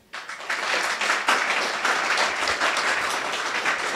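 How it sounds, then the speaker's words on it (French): A large startup-pitch audience breaks into loud, sustained applause that starts abruptly and holds steady as a dense wash of many hands clapping, with no talk over it. "Donc vous applaudissez le plus fort possible pour la boîte que vous avez préférée, ok?"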